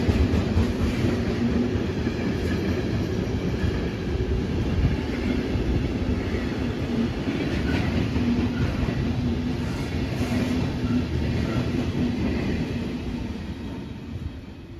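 Freight train rolling along rails near Sittard behind a diesel locomotive, a steady loud rumble with a faint rhythmic clatter of wheels over joints. It fades slightly toward the end, and no one speaks.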